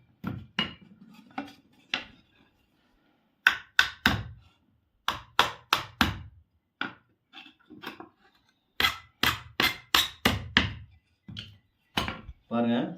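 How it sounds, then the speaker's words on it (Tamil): A nail struck with a hammer and driven into a wall during house wiring work, heard as sharp, close metallic taps in quick clusters with pauses between them. "ஆணி என்ன பண்ணணும், ஆணி வந்து உள்பக்கமாக அடிச்சு விட்டுறலாம். இப்படி தட்டிக்காங்க."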